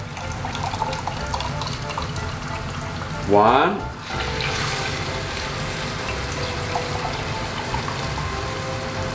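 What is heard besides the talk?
water poured into a pot of risotto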